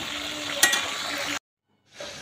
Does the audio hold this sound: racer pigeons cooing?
no